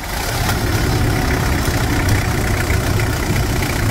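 The engine of a Toyota Land Cruiser Prado idles loudly and close after starting, a steady rough mechanical rumble with the mounts and starter refitted. No talking is heard.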